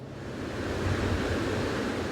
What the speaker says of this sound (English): The mighty waves of the Pacific pound the shoreline during what's called a king tide